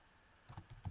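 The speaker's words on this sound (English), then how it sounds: "you see how I'm typing that right into that little spot there" Fingers type on a computer keyboard, a brief burst of faint, close key clicks following a quiet pause, with no voices.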